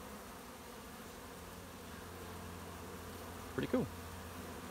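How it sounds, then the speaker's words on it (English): Honeybees, workers and drones, escaping a car door in a forced abscond, hum in a steady, faint, close buzz throughout, with a brief spoken remark near the end. "There's the drone. There's a worker. It's a worker bee."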